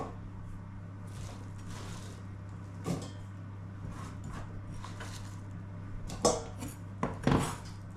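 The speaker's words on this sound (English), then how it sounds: "So the onion I'm just going to put directly in the cooking pot" Chopped onion tipped straight into a cooking pot, giving a few soft thuds and clatters of metal against metal over a low steady hum, with a couple of sharper knocks near the end.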